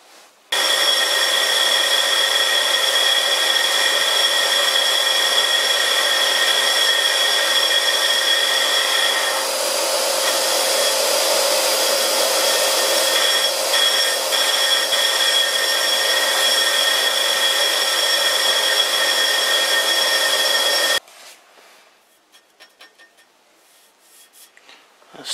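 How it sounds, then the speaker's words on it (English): A vintage lathe running at 100 RPM turns cast iron against a high-speed steel tool, producing a steady, loud scraping whine with tonal ringing that holds for about twenty seconds and then stops abruptly. "I'm going to try a piece of high-speed steel, just to see how that works out. I will be running the lathe at 100 RPM."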